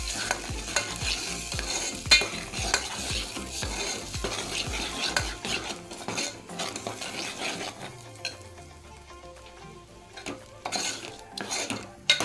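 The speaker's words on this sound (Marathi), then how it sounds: "जरा दोन तीन मिनटं तेलात परतून घ्यायचं व्यवस्थित" Ground masala paste mixed with ginger-garlic paste is sautéed in oil for a chicken rassa. A spoon stirs and scrapes the pan in quick, busy strokes over a soft sizzle, then eases off before a few final scrapes.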